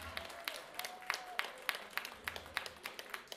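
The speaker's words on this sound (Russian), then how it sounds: "хотелось бы, чтобы сейчас прозвучали вообще нескончаемые бурные аплодисменты" Festival audience applause, sparse and fairly quiet, with scattered distinct claps repeating over a soft crowd background.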